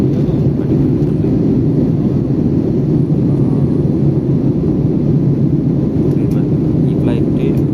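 Steady, loud low rumble of engine and air noise inside a SriLankan Airlines airplane in flight, continuous and unchanging throughout.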